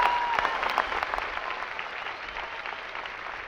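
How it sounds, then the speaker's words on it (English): Crowd applause at a 2023 high school graduation ceremony, steady far-off clapping from a large audience that gradually thins out. "Ladies and gentlemen, please join in applauding their efforts and achievements."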